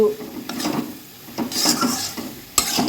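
Bottle gourd curry is stirred in a pan with a spoon, a few close scraping and clinking strokes over a faint sizzle, short and moderately loud.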